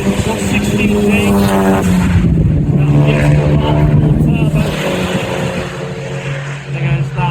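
Cars circulate on the Donington Park race track during a track day, engines droning loudly nearby with rising and falling pitch as they pass, while a person talks over the noise.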